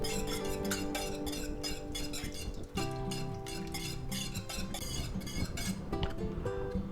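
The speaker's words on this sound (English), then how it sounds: "And now we just continuously whisk here" A whisk beats hollandaise sauce in a bowl with steady, rapid clinking strokes against the sides, close and continuous with no talking.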